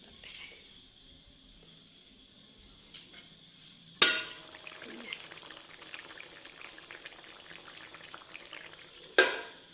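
Bitter gourd curry sizzles and crackles steadily in a hot pan after a quieter start, with a few sharp utensil clanks near the beginning and end.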